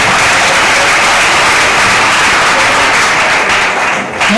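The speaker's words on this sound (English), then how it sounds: "Is that the way you clap for the Honorable Minister?" Audience at a university event applauding for the Honorable Minister, a steady, loud wash of clapping that holds throughout and dips briefly near the end.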